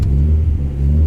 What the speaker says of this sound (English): First gear, let's get moving.